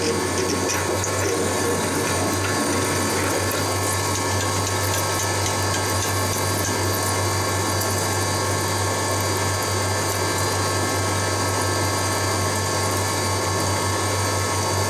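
A metal lathe cuts with a boring bar inside a workpiece, a steady, loud machine hum with a continuous gritty cutting hiss throughout, close and without voices.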